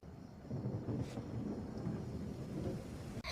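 Rain pours down heavily with a low rumble of thunder underneath, a dense continuous roar that holds steady for a few seconds before briefly dropping out near the end.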